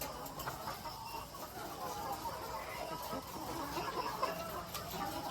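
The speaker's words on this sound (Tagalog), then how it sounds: "Ito po yung ating mga manok mga kaitog." Many chickens cluck softly together in a steady murmuring chorus inside an enclosed layer poultry house with the lights off, with low background noise throughout.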